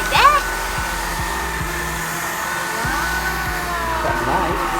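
A KHIND cordless lightweight vacuum cleaner runs with a steady, fairly soft motor whir, under a brief faint voice near the start and low background sounds.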